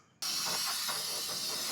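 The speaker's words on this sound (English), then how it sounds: "We're going to clean this all up, spray it all off, and then we're good to go." A steady, loud hiss of spray washes down a Honda Element engine bay, starting abruptly and running continuously at close range until it cuts off.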